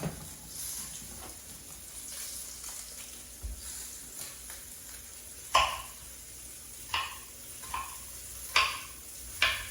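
Red onion sizzling in a pan, a steady low frying hiss broken by several sharp pops and crackles toward the end.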